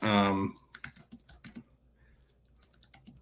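A computer keyboard clicks in scattered short bursts of keystrokes, quiet and close, right after a brief spoken word at the start.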